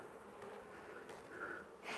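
Honey bees hum faintly and steadily around an open hive during a bee yard inspection, a soft continuous buzz with a few closer passes near the end.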